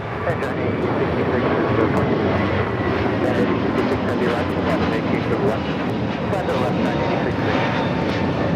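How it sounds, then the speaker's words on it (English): A United Airlines A321neo takes off from Los Angeles LAX bound for Chicago, its engines producing a loud, steady broadband roar that holds throughout. A commentator speaks over it. "This is United Airlines 2487 taking off to Chicago on the A321neo."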